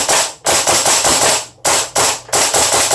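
A gas blowback replica rifle fires full auto in short bursts, loud, close and sharp, with rapid mechanical clacks and brief pauses between bursts, alone without talk.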